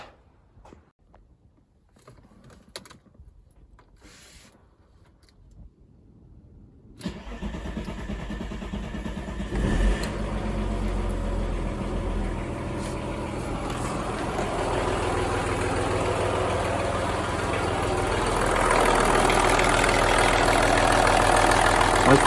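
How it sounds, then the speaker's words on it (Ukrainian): A quiet stretch of faint clicks gives way to a 2.5 TDI V6 diesel engine in a Volkswagen Passat B5 with a knocking fault cranking and starting, then idling steadily with a rough, busy mechanical clatter that grows louder. "Клієнт звернувся з проблемою посторонні звуки в двигуні."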